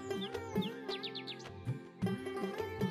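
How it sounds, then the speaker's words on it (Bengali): Myna and magpie robin birds call near a paddy field beside a tin-roofed mud house, with quick chirps and whistled notes repeating through a steady, busy mix of outdoor sound. "মাঝে মাঝে শালিক আর দোয়েল পাখির ডাক ভেসে আসছে।"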